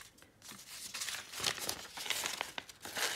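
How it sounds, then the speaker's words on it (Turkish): Scissors cutting paper circles for an art journal, with continuous crinkling and snipping of paper, close up and fairly quiet, with no voices. "Bu arada yuvarlaklarımı kesiyorum."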